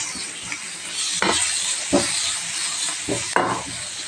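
Bread egg bondas being tossed in a frying pan make a continuous sizzle, broken by several sharp scraping and stirring hits at irregular intervals.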